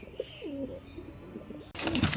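A pet pigeon coos in a few soft, rolling calls close by, followed by a louder burst of rustling or wing flapping at the end.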